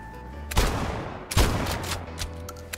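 Rapid gunfire bursts in the City of Outlaws mobile roleplay shooter, loud and dense, with two sharp heavy blasts standing out amid continuous crackling shots.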